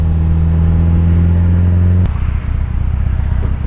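Built SR20DET engine in a Nissan 240SX running rough during break-in, a loud, close, lumpy idle with a strong low drone that shifts abruptly midway into an uneven, pulsing rumble.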